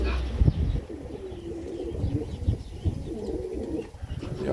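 A pigeon coos in a steady, repeated rolling rhythm, close and moderately loud, with soft rustling underneath and no talking.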